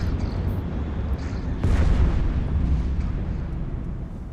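Spaceship turrets firing in EVE Online, a loud booming burst rising out of a constant low rumble and slowly decaying, with no talking.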